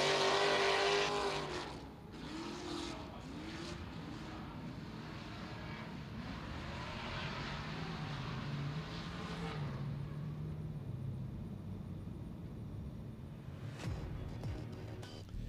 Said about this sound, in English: So Rahimi taking his practice run here, doubling as an opportunity to show that the vehicle is mechanically sound